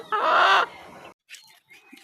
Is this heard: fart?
no